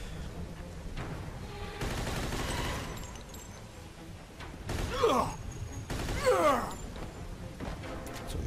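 A Thompson submachine gun fires in the video game Mafia II, with a few short, fairly quiet bursts separated by gaps of lower mechanical noise.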